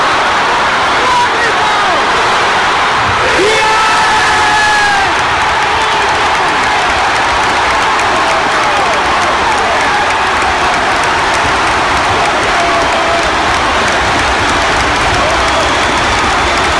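A packed football stadium crowd roars and cheers after a goal, a loud, dense wall of voices and applause that holds without a break, with some talking mixed in.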